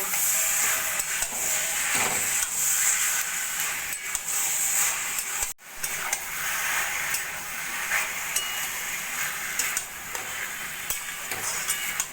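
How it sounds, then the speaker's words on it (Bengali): Chicken keema sizzles in a pan with masala and potato while being stirred, a steady close frying hiss broken by scraping strokes of the spoon and a brief pause partway through. "এবার দিয়ে দেবো আমি চিকেন কিমা কিমাটা ভালো করে মশলার সঙ্গে কষিয়ে নেব"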